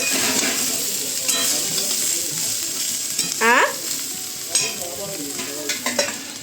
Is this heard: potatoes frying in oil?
yes